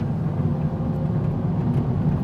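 A 2017 Hyundai Elantra Sport with a turbocharged engine and a sporty exhaust is driven along, giving a steady low rumble of engine and exhaust throughout, close and fairly loud. There is no talk.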